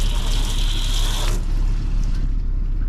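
Loud, steady hiss of a freshwater washdown hose spraying a boat, the tone shifting slightly partway through as the flow changes.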